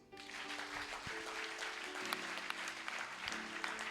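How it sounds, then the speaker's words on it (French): A church congregation applauds for Jesus, a steady dense clapping from a large crowd that continues throughout without a break, with a faint sustained tone underneath. "Est-ce que vous pouvez acclamer pour Jésus?"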